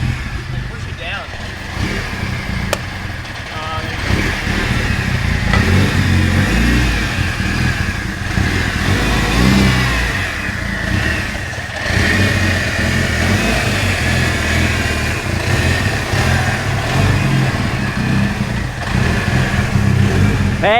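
A home-built Evo wagon drives for the first time, its engine droning and revving loudly and continuously from inside the car, with people talking over it.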